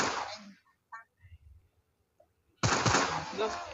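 Video game gunfire in a Murderers vs Sheriffs match comes as a loud burst at the start and a second loud burst near the end, with brief quiet and small sounds between.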